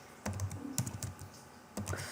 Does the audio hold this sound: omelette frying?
no